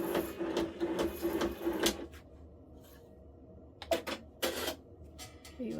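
An OESD multi-needle embroidery machine stitches out a design, giving a close run of rapid mechanical clatter for about two seconds, then a quieter hum broken by a few sharp clicks and knocks.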